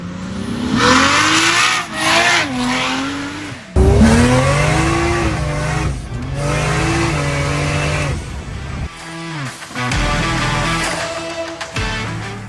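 A modified VH Holden Commodore with a Barra engine swap, running E85 and making 686 hp at the rear wheels, revs and shifts through gears up close, rising and falling in pitch with a few brief pauses between pulls.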